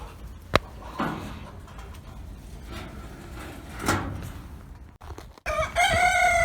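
A rooster crows loudly near the end amid scattered chicken sounds, after a stretch of faint rustling and a sharp knock or door thud.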